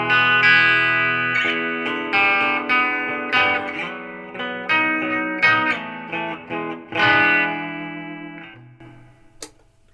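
An Ibanez AS93 hollow-body guitar on its bridge pickup plays clean chords through a 50-watt Marshall JVM205 head with reverb, ringing strums and arpeggiated notes sounding alone before a final fading chord.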